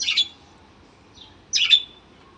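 Two sharp bird chirps ring out in the early morning outside a balcony, with a fainter call between them, each bright and brief against a quiet background.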